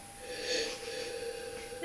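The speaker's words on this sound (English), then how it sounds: "Sorry, my snuffly nose keeps sniffing, do apologise." Snuffly nose sniffing during a smoked beer tasting: a soft, close intake of air through a congested nose, swelling briefly before trailing into faint breathy noise.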